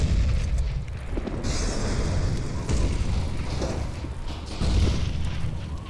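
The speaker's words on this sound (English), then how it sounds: "Bombs outside." Bombs going off outside in a video game, a dense, continuous rumble of booming blasts that stays loud throughout with several heavier surges.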